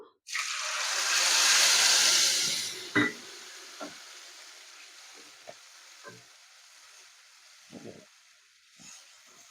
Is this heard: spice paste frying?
yes